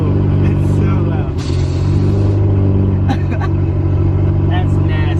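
A 2018 Hyundai Elantra Sport with a catless downpipe idles loud and rumbling after starting, a deep steady drone with a brief rev flutter, while people talk over it.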